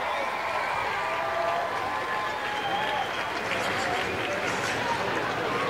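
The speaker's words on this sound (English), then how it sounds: "give him a big round of applause" Spectators applaud at the Pig N Ford races, a steady, dense outdoor wash of clapping and crowd noise lasting the whole stretch, with a faint announcer voice underneath.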